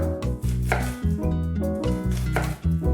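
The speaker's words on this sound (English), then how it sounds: "Chop it into small pieces." Red onion being chopped into small pieces with a knife on a cutting board: steady, rapid, loud close-up knife strikes in a continuous rhythm, alone without voices.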